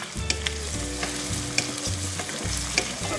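Ginger, whole garlic and green chilies sizzle and crackle steadily in a hot pan, with occasional scraping stirs and small pops, heard up close.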